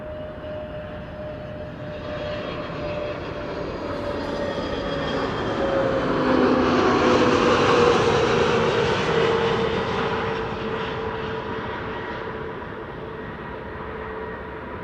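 An Airbus A320neo lands at Amsterdam Schiphol, its engine roar and whine swelling to a peak midway as it passes, then easing off, with a steady tonal hum running through and no talk.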